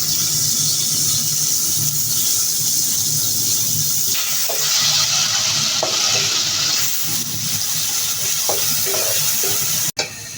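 Chopped onion with oil hitting a hot cooking pot, a loud, steady, close hiss and sizzle that continues throughout, with a few utensil scrapes partway and a sharp knock near the end.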